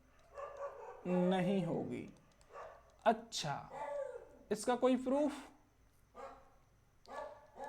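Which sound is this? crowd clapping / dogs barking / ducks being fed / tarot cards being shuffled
dogs barking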